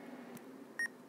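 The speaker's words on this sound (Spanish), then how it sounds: "Y ahora en Kioto sí tengo que marcar el teléfono." Telephone number dialed in The Portopia Serial Murder Case video game: a short electronic beep of steady tones, preceded by a faint soft blip, over a quiet background hum.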